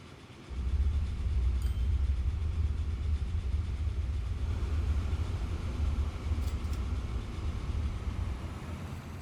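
A train passing in Transport Fever 2 gives a low, continuous rumble that starts abruptly and holds steady before easing slightly, with no talk over it.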